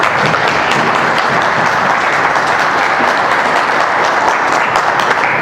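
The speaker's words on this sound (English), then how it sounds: "Round of applause for Mike Murray." A conference audience at a Boston security event applauds the closing keynote speaker, producing steady, dense, loud clapping that fills the room without a break.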